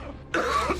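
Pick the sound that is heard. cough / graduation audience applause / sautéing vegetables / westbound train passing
cough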